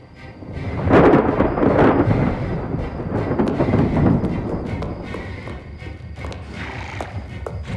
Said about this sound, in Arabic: الظاهر في عاصفة قوية جاي.